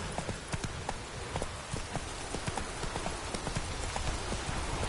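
Horse hooves clip-clop in a steady, brisk rhythm, loud and close, with dense overlapping strikes and no other sound over them.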